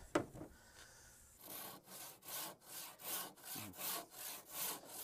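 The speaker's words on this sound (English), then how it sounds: "that crosscut saw works nice" A crosscut saw cutting through wood, about eight rhythmic back-and-forth rasping strokes at an even pace after a brief knock, fairly quiet and close with no talking.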